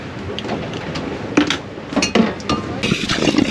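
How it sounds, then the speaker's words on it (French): Dishes being washed in fresh water on a boat clink and clatter in irregular bursts, with scattered sharp knocks of crockery and utensils over a low background hiss. "Nous faisons toujours la vaisselle à l'eau douce."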